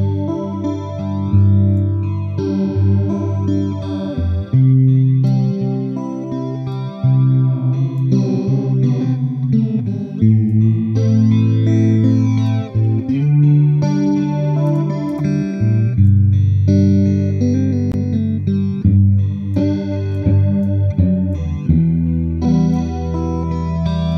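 Guitar part played through an Arturia Modulation FX unit in auto mode, a steady stream of chorused, swirling chords and notes filling the whole stretch, loud and alone with no talking.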